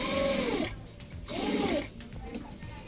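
Sewing machine stitching along a folded hem of a cotton vest, with two loud bursts of running stitches separated by brief pauses, close and alone without talk.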